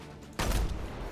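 A single loud sniper rifle shot in the Destiny 2 video game, a sudden sharp blast with a short rumbling tail over quiet background sound.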